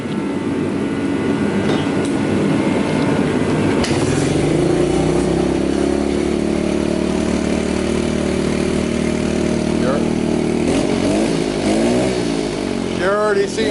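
A rebuilt 2003 Kawasaki KLX110 dirt bike engine fires up for its first start and settles into a loud, steady idle, with throttle blips rising and falling near the end.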